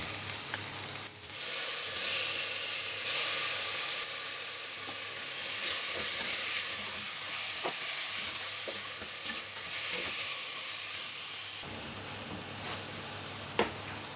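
Oil sizzles steadily in a pan as chicken is added after garlic and ginger, while a utensil stirs and scrapes intermittently, close by; the sizzle drops away near the end, leaving a few clinks.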